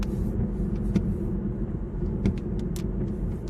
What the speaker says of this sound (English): Oh, that was the National Weather Service driving their weather service mobile. Just drove past me.